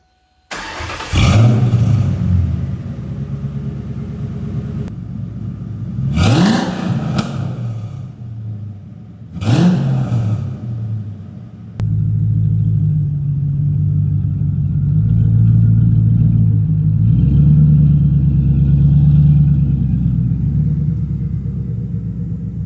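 A 2002 Mustang GT with an X-pipe and SLP Loudmouth mufflers starts up, then its V8 barks through three sharp revs before settling into a deep, loud, rumbling idle close by.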